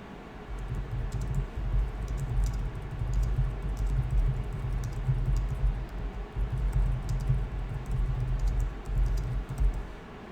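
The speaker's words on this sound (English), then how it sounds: "So let's go ahead and type in a description here." Steady keyboard typing on a computer while entering a Google Ads description, a continuous patter of close, fairly soft keystrokes over a low hum throughout.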